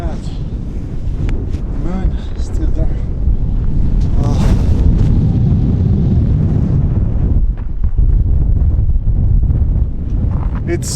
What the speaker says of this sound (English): It's super windy again.